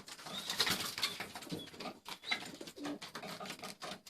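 A domestic pigeon with feathers plucked from its neck, suffering a head-shaking disease, coos in soft repeated phrases with occasional wing flutters and pattering, heard close up without talk.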